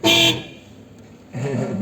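A short car horn blast at the start, then a quieter pause before a second, softer honk or tone rises near the end.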